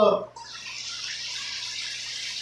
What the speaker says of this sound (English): put a little water in that so it'll steam